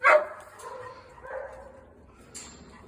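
A dog barks in a kennel: one sharp close bark at the start, then softer yips and whimpering, with a faint high call near the end.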